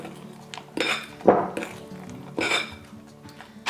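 A utensil scrapes and taps around a bowl while chocolate chips are stirred and folded into egg-free pancake batter, giving a few soft clinks and gentle swishes up close, with no talk.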